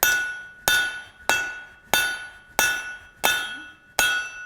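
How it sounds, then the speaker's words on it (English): A hammer strikes a hot round steel bar on an anvil seven times at an even, unhurried pace to forge it into an oval for a hot chisel, each blow ringing sharp and metallic with a decaying clang. "Now the first step that I want to do is forge this from a round into an oval"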